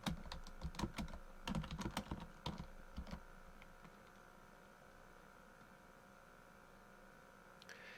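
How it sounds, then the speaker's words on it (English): Keys clatter on a computer keyboard as a router command is typed, with quick bursts of close clicks for about three seconds before fading into a faint steady hum, no voices. "the first thing that I will do is issue the show IP interface brief command"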